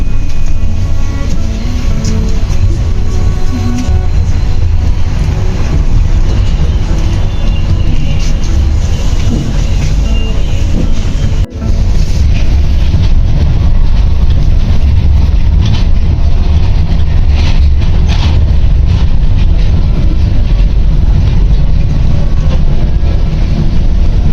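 A Moscow monorail train runs with a loud, continuous rumble and whir, broken only by a brief dip partway through.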